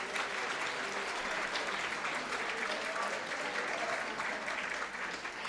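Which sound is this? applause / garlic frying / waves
applause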